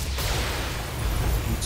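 Heavy mech weapons fire in the BattleTech game, a dense continuous roar of booming shots and blasts that fills the moment without any voices.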